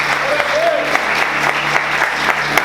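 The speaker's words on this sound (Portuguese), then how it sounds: "Vamos aplaudir Jesus bem forte." A church congregation claps during a worship service, a broad wash of applause mixed with a sustained tone and voices underneath, fairly loud and continuous for the short span.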